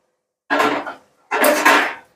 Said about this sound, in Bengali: এবার ঢাকনাটা খুলে দেখি